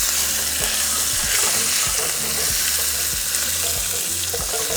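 Bacon, peppers and onions fry in hot oil, a loud, dense, constant sizzle with faint scraping stirs underneath, no voices.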